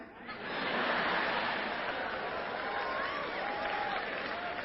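An audience at a motivational success talk claps in a continuous muffled wash that swells after a brief quiet opening and carries on steadily, with faint murmurs and chuckles underneath.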